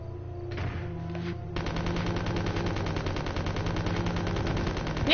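Rapid continuous gunfire from a video game gun, a dense steady stream of shots over droning background sound, loud and close, with a brief burst before the main volley.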